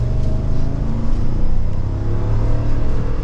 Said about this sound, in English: And you can hear that V8.